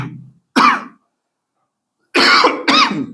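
A person coughs in distinct bursts: a short rasp at the start, a single sharp cough, a pause, then two loud hacking coughs in quick succession, close and clear with no talking.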